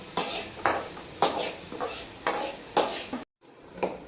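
A curry leaf mixture is stirred in a pan, with a utensil scraping and knocking against the metal in about six evenly spaced, close strokes, then a short pause and one softer stroke.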